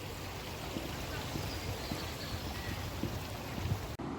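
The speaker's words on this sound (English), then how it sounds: "There's the river, guys" A river flows outdoors as a soft, steady watery rush, fairly quiet and even, with a few faint splashes and knocks scattered through it.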